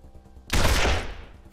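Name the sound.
gunfire shooting at the player in a video game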